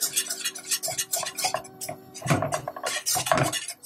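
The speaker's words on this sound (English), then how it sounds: "keep whisking so you don't have a lumpy sauce" A whisk works a roux of butter and flour in a pan for mac and cheese sauce, giving busy, rhythmic scraping and clinking against the metal throughout, louder in bursts toward the end.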